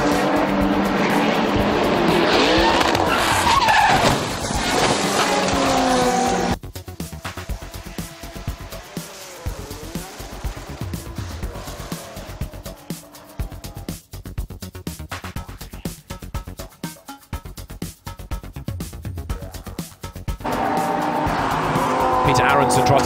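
Racing cars at the Eau Rouge corner of Spa-Francorchamps, with loud engine roar and tire squeal giving way to a crash into the barriers that destroys the race-leading car, then scattered impacts and engines returning, all under continuous commentary.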